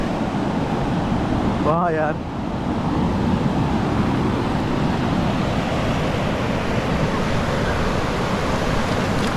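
Sea waves washing onto the shore at Salalah, Oman, a steady broadband rush filling the whole clip, with a brief man's exclamation near the start over the surf.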